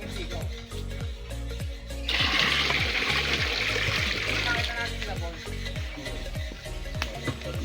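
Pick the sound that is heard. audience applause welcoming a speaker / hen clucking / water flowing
water flowing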